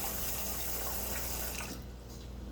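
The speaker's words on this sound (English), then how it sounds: "And I'm going to start washing this rice." Rice being rinsed under a running kitchen tap, a steady close rush of water into a sink that carries on unbroken, then eases slightly near the end, with no voices.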